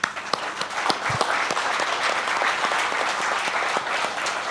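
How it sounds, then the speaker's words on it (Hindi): An audience at a live talk event breaks into applause, dense sustained clapping from many hands, loud and close, with a few sharp individual claps standing out. "आई वॉन्ट तालियां ऑन दिस।"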